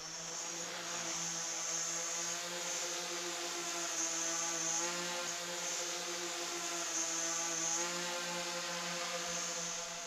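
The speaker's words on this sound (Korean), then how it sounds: "드디어 드론에 시동이 걸리고 비행을 시작한다." A heavy training drone starts up and flies, its rotors giving a loud, steady, continuous buzzing drone with a high whine on top, close by and unbroken, with no voices.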